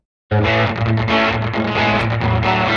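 A dry, thin direct-input electric guitar plays chugging low notes continuously after a brief silence, raw and unamplified, close and fairly loud.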